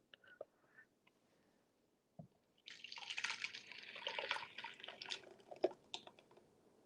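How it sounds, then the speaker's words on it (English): Pumpkin coconut soup pours back into a pot with a thick, splashing slosh lasting several seconds, fairly close and moderately loud, after a few quieter kitchen clinks. "Pour the soup back in."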